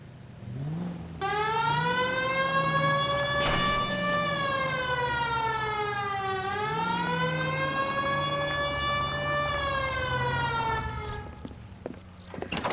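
A video game police car siren wails, rising and falling steadily over an engine's hum, loud and close, lasting the whole stretch before fading.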